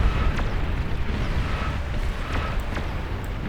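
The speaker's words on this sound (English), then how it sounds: "Ooh, and a massive explosion right there." A massive nuke explosion in the real-time strategy game Beyond All Reason: a loud, continuous rumbling roar with crackling bursts, sustained throughout without talking.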